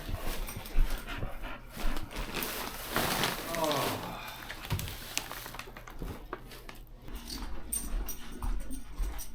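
Dogs pant and shuffle around nearby, with paws moving and occasional whimpers, while people talk intermittently in the background.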